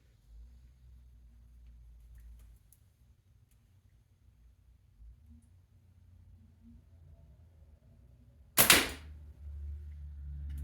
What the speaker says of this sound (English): my little slingshot shooting laser beams